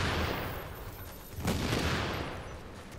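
A deployed turret firing in the game The Division, a dense, continuous rattle of rapid gunfire that swells briefly midway, with no talking.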